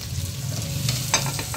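Carrots, potatoes and beans stir-fry in a pan over low heat, a soft continuous sizzle with a few scraping stirs of a spatula toward the end, close up and without speech.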